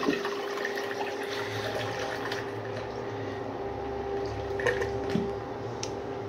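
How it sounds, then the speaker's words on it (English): A miniature 1983 Norris wall-hung toilet flushes with a steady rush of running water, close and moderately loud, with small drips and splashes throughout. "Time for another flush."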